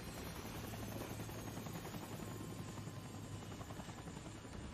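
A helicopter in Far Cry 3 lifts off, its rotor chopping in a steady, dense, loud thrum that fills the whole moment without pause.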